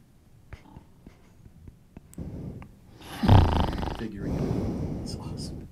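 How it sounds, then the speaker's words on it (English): A person leaning too close to a microphone snores, a rough, rasping inhale swelling loud over a few seconds after quieter breathy clicks, heard up close without talk. "Leaning a little too close to your mic and you're snoring again."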